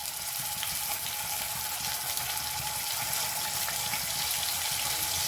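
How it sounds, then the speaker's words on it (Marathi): Cumin and ginger-garlic paste sizzle in hot oil, a dense continuous crackling hiss at steady loudness throughout, close up, with no voices. "तेल गरम झाल्यानंतर आपण टाकणार आहोत 1 चम्मच जिरा, त्यानंतर 1 चम्मच अद्रक लसूणची पेस्ट"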